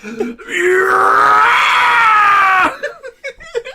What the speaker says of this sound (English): Speaking of the Howie scream